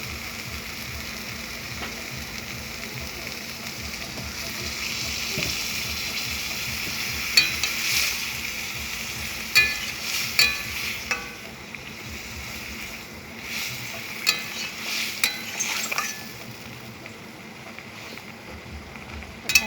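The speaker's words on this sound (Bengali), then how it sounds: "এখনই জল ঢেলে দেবো" Water hits fried white mustard spice paste in a pan, giving a steady hiss and sizzle for about twenty seconds while a spoon scrapes and stirs in intermittent clicks, close and fairly loud with no talking.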